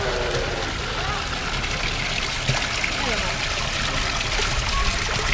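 Water trickles and pours over someone's head at a zoo, a steady close splashing stream running the whole time beneath ongoing voices and outdoor background noise.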